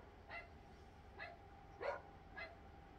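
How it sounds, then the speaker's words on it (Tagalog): Dogs bark in four separate short yaps spaced about half a second apart, distant and faint over steady background noise. "Diyan na naman yung mga aso."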